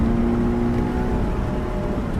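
A 2013 Subaru BRZ Limited engine holds high revs against the rev limiter on a track, a steady, loud, close drone with a faint whine and no voices.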